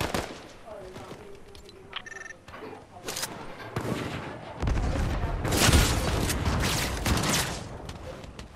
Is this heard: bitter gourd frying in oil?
no